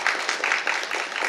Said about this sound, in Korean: 이현주 의원님께 다시 한번 뜨거운 감사의 박수를 부탁드리겠습니다